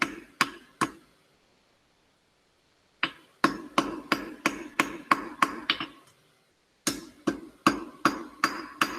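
Sharp metallic hammer strikes ring out in rapid rhythmic bursts, pausing briefly between volleys, as a hammer forges hot steel flat on an anvil.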